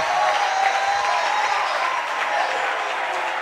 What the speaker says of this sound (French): Ajoute une offrande d'acclamation